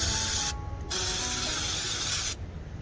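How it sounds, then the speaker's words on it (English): Parts cleaner sprays onto brake rotors in loud, close hissing bursts: one long blast, a short break, then a second sustained spray that cuts off abruptly. "you get your parts cleaner and you go ahead and clean them things off"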